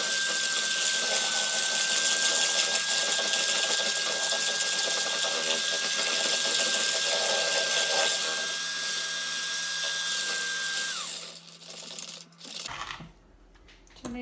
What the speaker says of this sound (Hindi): इसको हम जो है सही तरह विस्क कर देंगे अपने इस मशीन से।